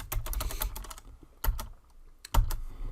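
Close, crisp typing on a computer keyboard: a quick flurry of keystrokes, a pause, then a few more taps, with a final louder key press, and no voices.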